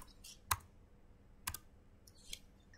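Commands typed on a computer keyboard: three sharp, isolated key clicks spaced about a second apart, close and quiet against a soft room hiss.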